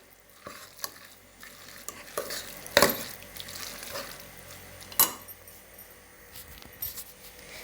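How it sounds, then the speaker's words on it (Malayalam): A mango mixture is stirred in a pan, with uneven scraping and clinking strokes and a couple of sharper knocks against the metal over a faint background. "ഇതിപ്പോൾ നന്നായിട്ട് ഞാൻ ഇളക്കി യോജിപ്പിച്ചിട്ടുണ്ട്."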